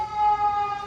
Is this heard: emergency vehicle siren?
yes